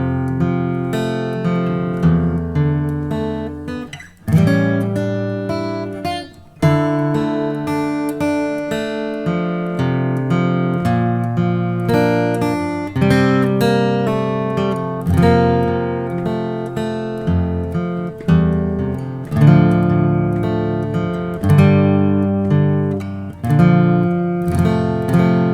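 Acoustic guitar plays a slow chord-melody arrangement of a song, with plucked chords and sustained melody notes ringing continuously and brief pauses between phrases, no voice.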